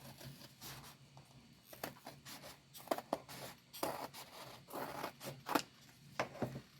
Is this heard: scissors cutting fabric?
yes